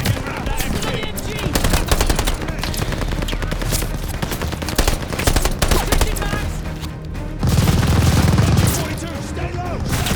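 A tower-mounted machine gun rattles in sustained, rapid fire during a Call of Duty: Vanguard battle. The dense, loud bursts carry on almost without pause, with shouting voices over the din and a heavier thump near the end.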